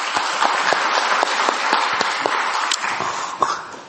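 Congregation applauding during a Sunday church service, a steady wash of many hands clapping at close range that holds for several seconds before starting to fade toward the end.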